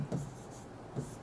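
Chalk or marker scratches across a classroom board in two short strokes, close and soft, over a faint room hum.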